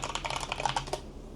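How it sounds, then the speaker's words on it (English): Rapid, dense typing on a computer keyboard: a quick run of close, crisp key clicks, fairly near and steady, that stops abruptly and leaves a quiet tail. "Now y'all can hear how fast I type."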